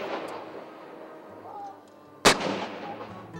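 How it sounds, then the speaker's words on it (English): A single sharp, heavy howitzer boom bursts out of quiet background murmur at Rogers Pass, followed by a short rumbling tail. "A blast from a howitzer cannon, that is."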